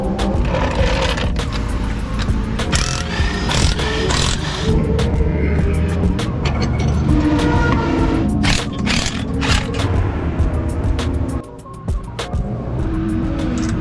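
Motorbikes lap a race track during a bike track day, their engines a constant loud roar heard from nearby, with repeated passes swelling and fading and brief sharp bursts throughout.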